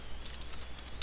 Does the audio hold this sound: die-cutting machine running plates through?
no